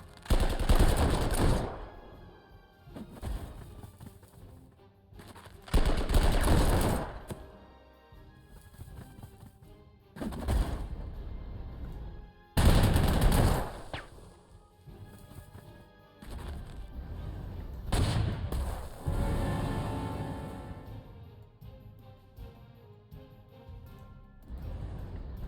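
Bursts of tank cannon and machine-gun fire from a World War II strategy game, Panzer Corps 2, loud and crashing, coming in repeated volleys separated by short quieter gaps, with no speech.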